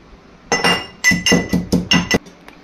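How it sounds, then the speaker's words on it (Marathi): Garlic and cumin are pounded in a mortar and pestle for a kadhi pakoda dish, a run of six or seven sharp, hard clinking strikes in an uneven rhythm, close and loud with no talking. "हा लसूण, थोडेसे जिरे आपल्याला खलबत्त्यात पुन्हा कुटून घ्यायचे आहेत"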